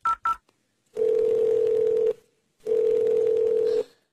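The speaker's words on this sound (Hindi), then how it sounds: "मैं अभी अपने बेटे को फोन करती हूँ" A telephone number is dialed with two quick keypad beeps, then two long, steady ringing tones sound with a pause between them, clear and alone.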